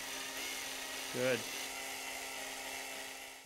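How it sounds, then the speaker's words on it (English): A power drill bores holes into the broken ends of an antique wooden chair spindle, a steady faint whirring hum throughout with a brief spoken word partway through. "we'll first drill holes into the broken ends"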